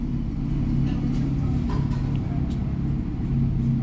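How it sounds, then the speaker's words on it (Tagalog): Loud, steady low engine rumble of a noisy car idling or running nearby, continuous throughout with faint voices underneath. "Maingay yung sasakyan."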